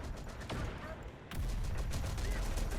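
Siege units firing in a Terminator-universe real-time strategy battle, a few sharp distant blasts over a dense rumbling combat bed that swells louder partway through, with a voice talking faintly underneath.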